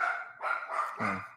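A dog barks indoors, three or four quick sharp barks in a row, close and fairly loud, with no talk.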